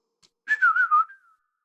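A person whistles a single short, clear tone that wavers gently up and down for about a second before trailing off, close and alone against silence.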